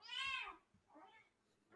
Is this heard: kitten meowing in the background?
yes